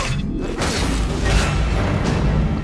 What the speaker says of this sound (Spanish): Toma petardo